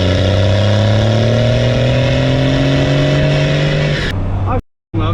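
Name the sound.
12-valve Cummins diesel truck accelerating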